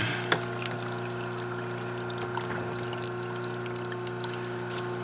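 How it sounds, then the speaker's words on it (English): Water pours steadily into a car wash bucket, a continuous close rushing hiss with a faint trickling texture that holds even throughout, with no voices. "So let's set up our wash bucket."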